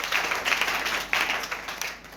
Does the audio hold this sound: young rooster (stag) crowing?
no